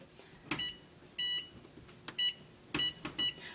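A kitchen oven timer is set for a rum cake, giving a series of short, high electronic beeps at irregular intervals amid quiet clicks, with no talking.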